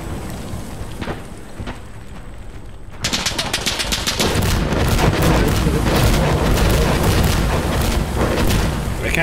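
Explosions and gunfire in the video game Insurgency: Sandstorm, a quieter stretch of dull rumble and scattered shots, then from about three seconds a loud, dense barrage of rapid gunfire and booms that continues to the end.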